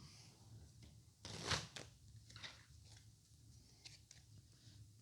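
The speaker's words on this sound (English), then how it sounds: "Shuffle these cards here." Someone shuffles a deck of playing cards at a table. A single brief riffling burst stands out against a faint low room hum, followed by softer handling sounds.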